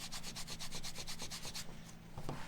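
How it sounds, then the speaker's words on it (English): Waxed canvas is rubbed back and forth along the edges of a leather wallet to burnish them, making a quick rhythmic rasping stroke near the listener that slows and then stops. "Start to burnish it up."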